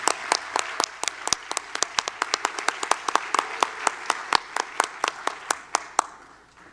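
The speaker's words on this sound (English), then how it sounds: "let's please give them all a round of applause as they exit the stage" A small audience at a regional educators' awards ceremony claps as recipients leave the stage, loose separate claps at an uneven rhythm that fade out after about six seconds.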